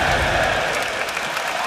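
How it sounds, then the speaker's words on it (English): An esports arena crowd at a 2014 EU LCS League of Legends match gives loud, dense applause with mixed cheering that fills the whole short moment, fading slightly toward the end. "Yeah, crowd obviously enjoying."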